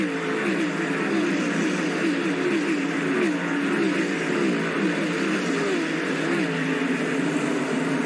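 Stock cars race around the Bristol short track during a 1985 Busch Grand National event, a continuous loud engine roar with wavering, overlapping pitches that holds steady throughout.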